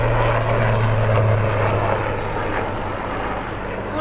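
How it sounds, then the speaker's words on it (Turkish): Helicopters flying overhead near a damaged Turkish village, a loud steady droning engine rumble with a low throbbing hum that holds throughout, slightly easing toward the end. "Burada helikopterler vızır vızır gidiyor arkadaşlar."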